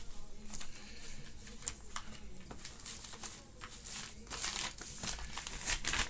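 Crinkling plastic and paper packaging as wireless Bluetooth earbuds are packed into a mailing envelope, with steady close rustling, scattered crackles and brief ticking handling noises, and no talking.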